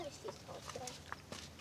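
Chickens at an alpine farm cluck faintly near their henhouse, with soft, scattered calls over a quiet outdoor background.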